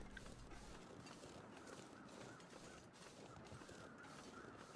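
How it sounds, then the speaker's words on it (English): Crows caw in the wilderness of The Long Dark, faint repeated calls over a steady outdoor ambience, with no one speaking. "I can hear crows up to the left."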